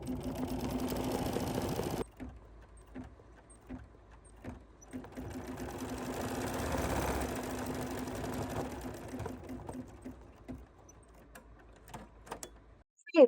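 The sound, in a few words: embroidery machine stitching a trapunto pillow design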